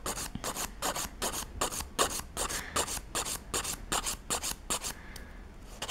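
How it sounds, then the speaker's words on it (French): A nail file drawn across the free edge of a gel nail, held at a slight tilt: about a dozen quick, crisp rasping strokes in an even rhythm, close and alone, then a short, softer scrape. "au lieu de garder ma lime bien à plat et de risquer d'enlever mon bombé,"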